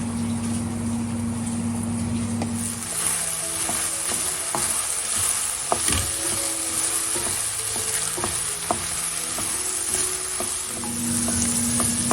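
Garlic frying in a hot pan, giving a loud, steady sizzle with intermittent stirring scrapes and clicks of a utensil, close up and continuous with no voices.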